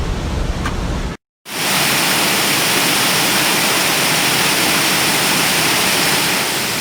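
Loud, steady rushing water roars continuously at a wastewater treatment pond after a brief silent cut near the start, a dense hiss with no voices.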